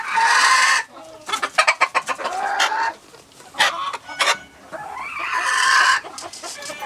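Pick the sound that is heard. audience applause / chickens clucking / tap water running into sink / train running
chickens clucking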